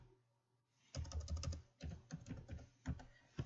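Someone types a password on a computer keyboard, a quick burst of close, crisp key taps followed by a few shorter clusters and single strokes, alone in a quiet room.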